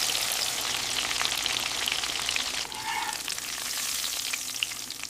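A breadcrumb-coated chicken burger patty deep fries in hot oil, giving a dense, even crackling sizzle close up that continues without pause.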